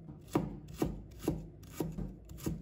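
A knife chops fresh ginger into thin shreds on a cutting board, giving five or six crisp, evenly spaced taps close up with no talking.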